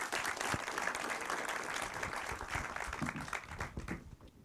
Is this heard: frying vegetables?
no